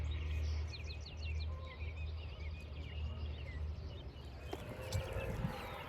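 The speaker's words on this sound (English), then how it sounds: "All you hear is birds everywhere." Several birds call and chirp outdoors in Wisconsin in May, quick repeated twittering notes scattered across the few seconds over a low background rumble, moderately close and fairly quiet.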